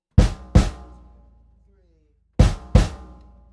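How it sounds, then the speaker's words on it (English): Four loud, booming hits in two pairs on floor tom, snare and bass drum in unison, combining deep thump with snare crack, each ringing briefly before the next. "floor tom, snare drum and bass drum in unison."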